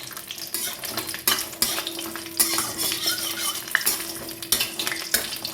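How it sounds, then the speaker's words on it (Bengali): Sun-dried lentil bori frying in mustard oil in a pan, a steady close sizzle broken by repeated scraping and clinking of a spatula stirring against the metal, with no talking. "সর্ষের তেল দিয়ে দিচ্ছি বেশ একটু লাল লাল করে ভেজে নেব"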